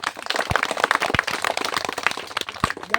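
Hands clap sharply three times, spaced irregularly, over a dense bed of rustling outdoor noise near a village field.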